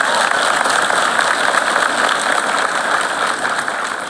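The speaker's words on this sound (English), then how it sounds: "Okay, so we can clap for A." A crowd at a law school pinning ceremony bursts into loud, sustained clapping. The applause stays full and even across the whole stretch, with no speech over it.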